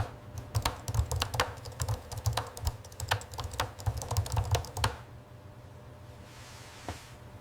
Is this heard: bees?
no